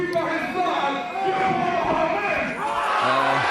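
Wrestling crowd at a Pro Wrestling Syndicate show roaring and cheering, a dense sustained mass of voices filling the arena, with commentators talking over it.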